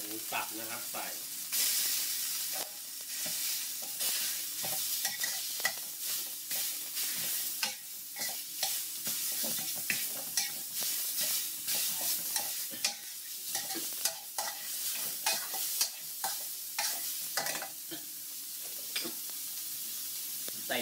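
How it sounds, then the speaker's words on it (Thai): Minced pork stir-fries with red curry chili paste in a hot pan, a continuous loud sizzle broken by frequent scraping, clattering stirs throughout, with intermittent spoken narration. "ผัดไปหลังจากนั้นก็เอาหมูสับนะครับใส่"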